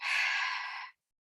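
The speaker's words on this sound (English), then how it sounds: "Open mouth, exhale," A single open-mouth exhale during a breathing exercise, a close, loud breathy rush lasting under a second and then cut to silence.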